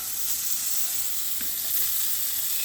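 Köfte meatballs sizzling in a frying pan, a constant dense crackling hiss, steady and close with no voices.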